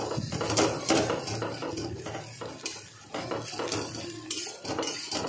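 Eggs are scrambled in a pan with a utensil, giving repeated scraping and clinking strokes against the metal over a soft sizzle, close and fairly loud, with no talking.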